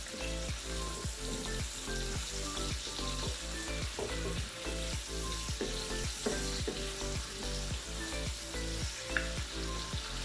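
Chicken with salt fries in a pan with a steady close sizzle, punctuated by a regular rhythm of stirring scrapes throughout, no talk.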